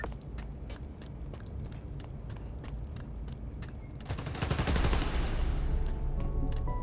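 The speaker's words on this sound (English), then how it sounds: "They're shooting transformers?" Gunfire in Marvel's Spider-Man: Miles Morales aimed at transformers, a steady crackle of rapid shots that thickens into a louder, denser burst of fire midway and holds to the end.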